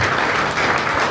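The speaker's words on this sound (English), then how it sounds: "once with a great round of applause" A great round of applause for a chief guest at a spiritual science workshop in Coimbatore, a dense, steady roar of many hands clapping, loud and continuous throughout the short stretch.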